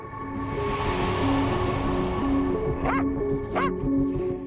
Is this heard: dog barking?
yes